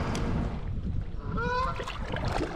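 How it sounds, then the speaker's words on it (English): Canada geese honk over steady rushing noise like wind or water, a few calls blending into the continuous background. "A couple Canadian geese."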